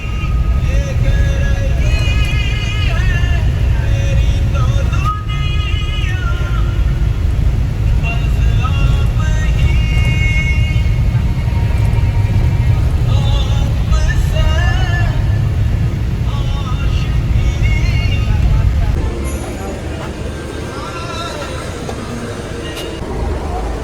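A bus drives on a road on the journey from India to Nepal, with the air conditioner running under a steady low engine and road rumble that eases near the end, while people talk.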